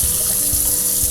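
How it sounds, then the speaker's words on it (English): Raw shrimp are rinsed under a running kitchen tap, the water rushing and splashing in a steady, loud, close stream with no talking. "I usually like to wash my shrimp again."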